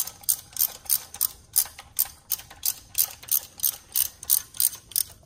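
A ratchet wrench clicks in quick, steady bursts as a spark plug is tightened into a Fiat 1.4L turbo engine, a close, crisp, rhythmic ratcheting with no talk.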